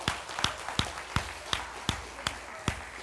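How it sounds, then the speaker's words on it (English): A church audience applauding children helpers as they leave the stage, heard as a sparse, regular run of sharp claps about every third of a second, moderately loud with a faint murmur beneath. "can I have another hand of applause to our little helpers here as they go off stage"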